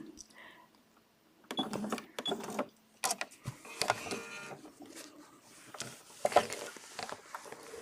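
A sewing machine quilts a feather leaf design along a template, with bursts of needle clatter that start and stop irregularly at close range, and quieter gaps of handling in between.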